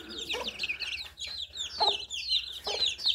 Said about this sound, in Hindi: अब मैं आप लोगों को मुर्गियों के बच्चे चेक कराता हूँ।